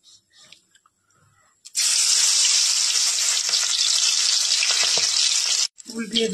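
Pui shak leaf pakoras dropped into hot oil burst into a loud, dense sizzle that holds steady for about four seconds, then cuts off, with quiet handling sounds before and after.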